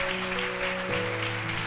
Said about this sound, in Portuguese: Pode aplaudir o Senhor, porque é para Ele.